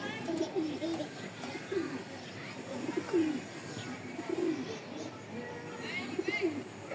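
A pair of Iranian high flyer pigeons coo in repeated low, rolling phrases, several calls spread steadily through the stretch over a soft, constant background hiss.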